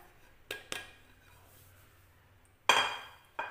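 A cake batter for an eggless, oven-free custard cake being mixed in a bowl gives a few sharp clinks and scrapes of a utensil against the bowl, spaced apart with quiet gaps between them. No voices.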